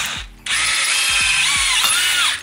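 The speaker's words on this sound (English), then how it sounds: "Because we're drilling through titanium bars, stepping up in size is super important" A power drill bores through titanium scooter handlebars with a steady high whine and grinding bite that holds for about two seconds after a brief start-up, loud and close with no talk.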